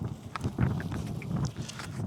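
Strong cold wind blowing on a night at a truck stop rest area, a steady gusty rush buffeting the microphone, broadband and fairly loud throughout, no talking.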